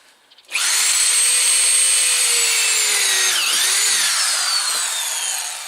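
A power drill boring screw holes through shed sheeting runs in one continuous, close, loud whine for about five seconds, its pitch dipping briefly under load partway through before it winds down.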